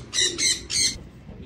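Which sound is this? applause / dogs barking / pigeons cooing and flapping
pigeons cooing and flapping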